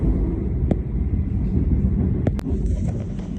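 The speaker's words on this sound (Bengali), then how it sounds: "এখন ট্রেন যায় অন্ধকারের মধ্য দিয়ে, তার মানে পাহাড়ের নিচ দিয়ে যাচ্ছে আন্ডারগ্রাউন্ড হয়ে" Steady low rumble of a train moving through a tunnel under a mountain near Genoa, Italy, with a hollow roar and a couple of brief sharp clanks near the end.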